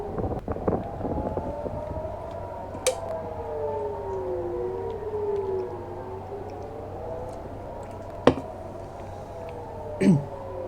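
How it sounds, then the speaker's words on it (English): Civil defense air-raid sirens wail across northern Israel during a rocket barrage, rising and falling in long overlapping sweeps from a distance, with steady wind noise and a couple of sharp cracks near the end. "Got loads of sirens going off"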